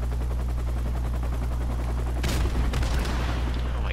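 Gunfire in Call of Duty: Modern Warfare Remastered, a burst of shots erupting partway through over steady low game hum, loud and close, with no talk.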